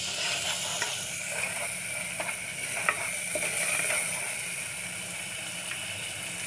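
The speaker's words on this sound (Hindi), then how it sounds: "दही 5 मिनट भूनेंगे ना, फिर हम इसमें आलू ऐड कर देंगे।" Yogurt fried and stirred in a pan for dahi aloo, giving a steady low sizzle with soft, irregular scrapes of stirring throughout, moderately quiet and without speech.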